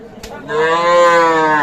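A Sahiwal cow lets out a single loud, drawn-out moo close by at a livestock market, rising after a brief quieter moment and holding steady to the end.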